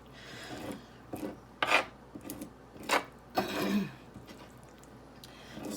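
Fish skin has its membrane scraped off for tanning: a close, raspy scraping made in several separate strokes of uneven length with brief pauses between them.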